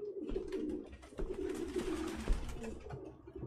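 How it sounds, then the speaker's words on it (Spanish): A flock of pigeons coos continuously inside a room in the video game Detroit: Become Human, a dense, layered murmur of soft throaty calls with fluttering movement, fairly quiet and steady. "Ningún humano viviría con esas putas palomas."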